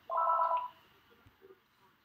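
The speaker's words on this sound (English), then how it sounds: "The phones are ringing." A telephone rings once in a single short electronic trill, fairly close and clear, then gives way to quiet room noise with a few faint knocks.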